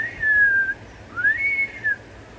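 A pet mynah bird whistles two clear tonal phrases, the first a long level note and the second a rising then falling glide, close and loud against a quiet background.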